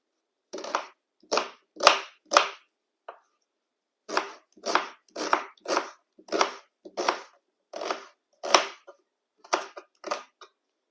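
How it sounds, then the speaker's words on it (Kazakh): A knife chops an onion into quarters on a board, about sixteen crisp, separate cutting strokes in uneven bursts over about ten seconds, close and clear against silence, with no speech. "Пиязды 4 бұрыштап турап аламын."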